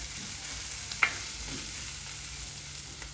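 Ginger, garlic and green chili sautéing in a pan for egg roast, a soft steady sizzle with a single brief stir or clink near the start, no talk.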